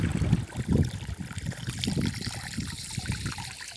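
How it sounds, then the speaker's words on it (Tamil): Water gurgles and trickles through a drip irrigation tube feeding plants from an opened tap, an uneven bubbling splash running steadily at close range with no talking. "நம்ம டேப்பை ஓப்பன் பண்ணி விட்டோம்னா நமக்கு செடிகளுக்கு தண்ணி போகும்"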